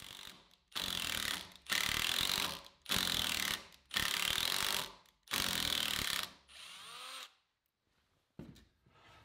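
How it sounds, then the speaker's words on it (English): A lag screw is driven with a ratcheting tool to tap threads into 3/16-inch pilot holes in white oak for a trestle table. Five loud, close bursts of rapid ratcheting clicks are separated by short pauses, and the last falls silent. "With the 3/16 inch pilot holes drilled, I'll use the lag to tap threads in the hole."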